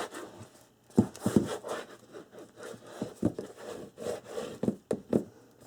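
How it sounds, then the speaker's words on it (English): Paper being burnished by hand for a calendar book album, heard as close, soft rubbing strokes in an uneven rhythm of about a dozen scrapes, quiet with no voice. "burnish this part"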